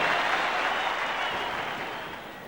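A crowd of 18,000 at a cricket match applauds and cheers loudly for a batsman, a dense wash of clapping and voices that gradually fades a little.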